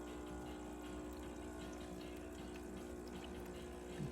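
A Breville espresso machine pumps water through its group head after a full service, giving a steady, quiet pump hum with a constant watery rush and no pauses.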